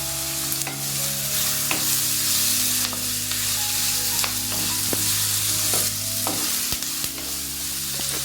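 Carrots stir-fried in a pan for carrot rice, a loud, continuous sizzle close by with repeated spoon scrapes and knocks every second or so, a low steady hum underneath, no speech.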